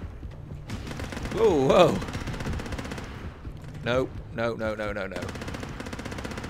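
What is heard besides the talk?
machine gun firing in the video game Depth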